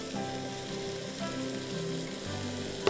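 Garlic and onions sizzle and fry steadily in a pan as a handful of prawns is added, a continuous crackling hiss throughout with one brief sharp pop near the end.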